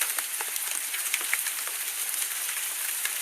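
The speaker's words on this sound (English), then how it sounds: "Light rain breeze southwestern." Light rain in the Eurofly flight simulator at Chicago Midway, a steady broadband hiss of falling drops with faint scattered patters, even and continuous, no voices.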